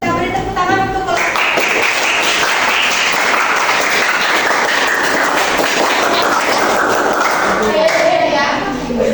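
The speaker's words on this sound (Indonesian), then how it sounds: "Kita beri tepuk tangan untuk kelompok." A school class applauding a student group, loud close clapping that starts after a short spoken moment and fills most of the clip, with children's voices mixed in near the edges.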